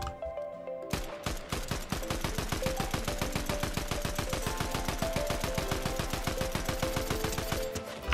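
Rapid, steady automatic fire from an assault rifle in Fortnite, starting after a brief pause and continuing as a long, loud stream of evenly spaced shots with no talking.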